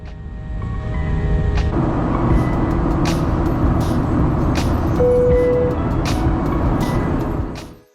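A Qantas Boeing 737 climbs out after takeoff on the short Canberra to Sydney hop, its cabin full of a loud, steady broadband roar, with a brief tone and faint clicks passing before the noise fades out.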